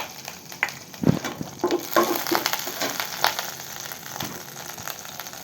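Butter and paneer crackle and sizzle in a frying pan at a soft, steady level, with a few light clinks and stirring scrapes and no talking.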